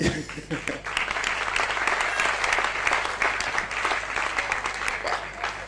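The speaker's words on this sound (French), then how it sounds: "Donc, on va les applaudir encore. Vamos bater palmas mais uma vez." Loud, sustained applause for urban dancers performing a mix of afro, capoeira and hip-hop at an Angolan b-boy dance concert, with crisp claps throughout and voices heard over the crowd.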